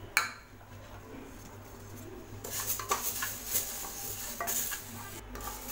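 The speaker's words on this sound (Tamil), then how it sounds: "குக்கரில் பாசிப்பருப்பு போட்டு லேசாக வறுத்துக்கலாம்." Moong dal roasting in a pressure cooker, faint dry stirring and scraping that grows a little busier midway, with light metallic clinks.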